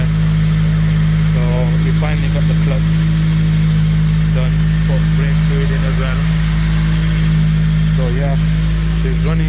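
A Honda Civic EP3 Type R with a newly fitted engine idles loud and close in a steady even drone, while people talk over it intermittently.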